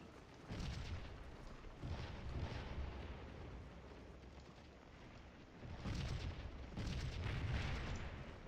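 Deep, rumbling artillery fire in the video game Scourge of War: Gettysburg, heavy booms rolling in overlapping waves at a distance, a sustained low roar with a short lull in the middle.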